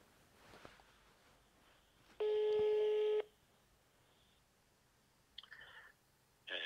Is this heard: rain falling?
no